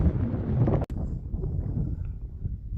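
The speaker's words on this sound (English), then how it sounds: "it's kind of windy and I don't want to lose it" Wind gusts across open Mojave desert ground, a steady low rushing roar buffeting the microphone, with a brief dropout partway through before the blustery noise resumes.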